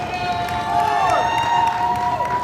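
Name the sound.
crowd cheering at a pro wrestling match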